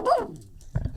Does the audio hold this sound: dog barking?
yes